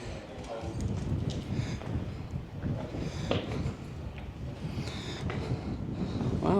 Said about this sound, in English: it's a little bit breezy here